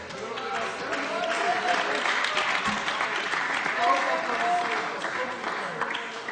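Steady applause fills a council chamber during an afternoon meeting, a dense, even wash of many hands clapping at once that holds for several seconds with no talk over it.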